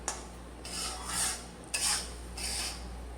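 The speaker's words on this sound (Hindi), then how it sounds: "इसे थोड़ी देर 2-3 मिनट हम चलाते रहेंगे इसी तरह से।" A spoon scraping and stirring milk powder into flour roasting in a pan, three or four soft rasping strokes at a steady pace, close and alone.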